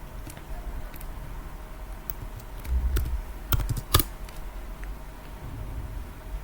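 Keys clatter on a computer keyboard as a command is typed into Travelport Smartpoint, a run of soft close taps with a few sharper, louder keystrokes in the middle.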